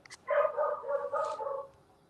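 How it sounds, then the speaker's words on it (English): A dog gives a short run of yappy barks and whines, moderately close and unaccompanied, before fading into quiet. "dog is causing a ruckus"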